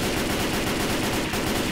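Rapid automatic gunfire in the Left 4 Dead 2 video game, a dense continuous stream of shots, loud and close.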